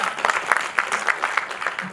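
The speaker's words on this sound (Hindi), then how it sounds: "एक बार ताली बजाकर मुझे ये बता दीजिए।" Audience applause at a university poetry recital, fairly light, rhythmic clapping with a clear pulse over two seconds.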